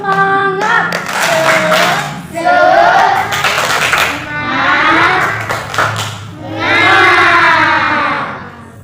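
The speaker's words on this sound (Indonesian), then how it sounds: "Tepuk semangat dulu ya." Schoolchildren in an Indonesian classroom perform a rhythmic spirit clap chant, their voices shouting in bursts over steady patterned clapping, loud and close, with a teacher's voice mixed in.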